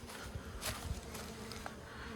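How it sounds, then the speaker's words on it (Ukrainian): A soft, steady buzz of many honeybees flying in front of their hive, with individual insects droning past the microphone now and then. "Бджоли як літають."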